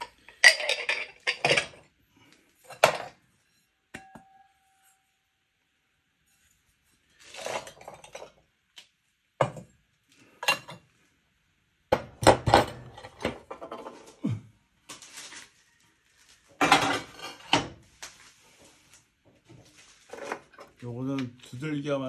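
Ceramic cups and plates clink and knock against each other in scattered bursts, close by, with quiet gaps and some speech between.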